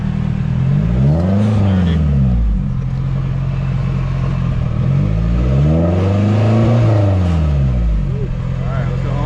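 A newly bought drift car's engine idles with a low rumble, then revs up and falls back twice in long swelling sweeps, loud and close throughout.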